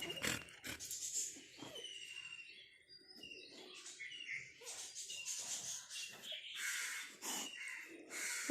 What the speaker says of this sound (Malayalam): കാക്കനെ ഒടിച്ചിട്ടിട്ട് വരാമോ